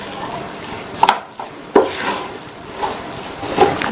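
A spoon scraping and knocking against a pan while cauliflower masala with coriander leaves is mixed, giving several irregular wooden clacks and soft rubbing strokes, close by and without talk.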